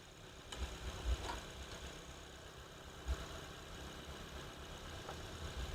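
A Maruti Swift VXi car engine idles, a faint, steady low hum with a few soft thumps, with no one speaking.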